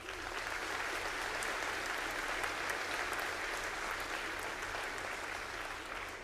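An audience at a school veterans assembly claps in dense, sustained applause that holds at an even level from start to finish, with no one speaking over it.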